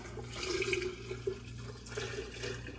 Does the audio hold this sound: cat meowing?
no